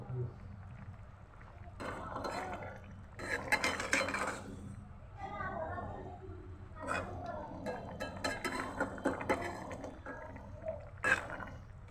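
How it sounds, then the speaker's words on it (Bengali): Mustard hilsa fish curry being stirred in a pan, with repeated clinks and scrapes of a utensil against the pot in bursts over a low bubbling simmer, while a voice talks in between. "সর্ষে ইলিশটা আমি নেড়ে দিচ্ছি"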